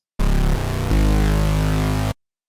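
Serum synth brass stab built on a 16-voice unison oscillator, a loud, thick, buzzing chord sequence of three abrupt blocks lasting about two seconds, starting and stopping sharply, with no voice.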